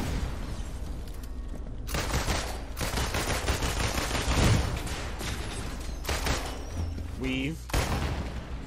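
Rapid power-shot bursts from machine pistols in the video game Marvel's Avengers, dense gunfire and booms sustained across the clip with a rising whoosh near the end, game effects loud throughout.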